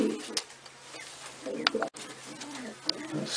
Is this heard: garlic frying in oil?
no